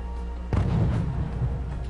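Tank cannon fire in the Wargame strategy game strikes Leopard tanks, a single heavy boom landing midway and rumbling out over a low, steady battlefield drone.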